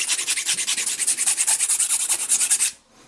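A G10 knife scale is sanded down until the abrasive reaches the metal, giving a close, rhythmic back-and-forth scraping with steady strokes for under three seconds before stopping abruptly.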